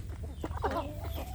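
A free-range village rooster clucks and calls in short bursts, close by, with a low steady hum of farmyard noise underneath.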